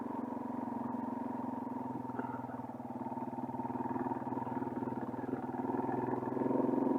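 A Yamaha TW200 motorcycle engine lugs from low revs in third gear, a steady close throbbing drone that swells slightly toward the end, with no talking over it.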